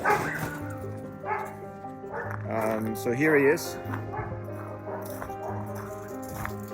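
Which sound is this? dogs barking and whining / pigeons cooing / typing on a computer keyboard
dogs barking and whining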